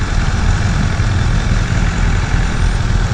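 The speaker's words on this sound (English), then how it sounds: "Right now the bike seems really quiet, even with a Akropovic exhaust." A 2018 BMW S 1000 RR sport motorcycle fitted with an Akrapovic exhaust idles close by, a loud, steady low rumble with an even throb and no voices.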